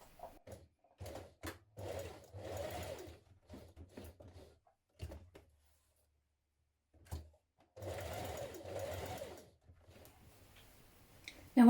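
A sewing machine does reinforcement stitching around the front of a McCall's 7357 blouse, working in short stop-start runs with clicks and handling noises between them, fairly quiet and close.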